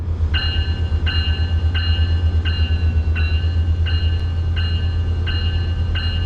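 A train rumbles in the Train Sim World 4 video game, with a loud, steady low engine drone and a repeating tonal chime pulsing about every 0.7 seconds. No voices are heard.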